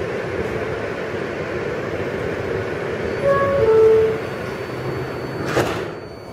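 A Manhattan-bound Siemens R160B Q local subway train sits at a New York City station, giving a steady rumbling hum with a brief rising electronic tone sequence and a short hiss near the end, no speech.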